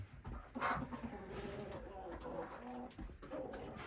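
Pigeons coo softly and continuously in a cluttered space, with faint rustling and a voice murmuring in the background.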